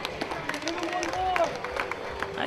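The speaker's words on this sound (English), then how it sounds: "give him a round of applause" Baseball crowd at a Hornell Dodgers versus Niagara Power game claps scattered and moderately far, under a nearby voice talking.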